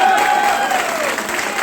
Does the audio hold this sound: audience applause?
yes